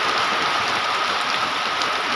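Heavy early-morning rain falling over a Bangladeshi village, an even, loud wash of drops pattering on surfaces without pause, no talking.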